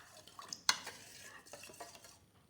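A spoon stirs melted chocolate and oil into brownie batter in a bowl, giving soft wet swishing and a sharp clink or two against the side, quiet and close with no voices.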